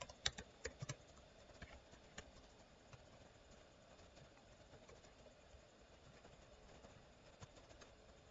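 Faint computer keyboard typing while code is entered on a Windows PC, with scattered soft key clicks that are a little busier near the start, over a quiet steady background hum.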